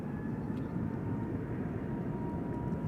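An EasyJet A320neo airliner at Amsterdam Schiphol gives a steady low engine roar with a faint tonal whine, moderately distant and constant throughout.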